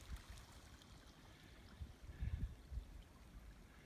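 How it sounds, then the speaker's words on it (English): Water running in a stream back in a wooded hollow, a faint steady trickling and gurgling wash with a few soft splashes, heard alone at a distance. "Water sounds pretty running back in here"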